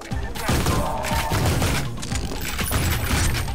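Pistol fire in the retro shooter Ion Fury, a burst of sharp, punchy shots with booming tails, loud and close, then more rapid blasts amid game noise.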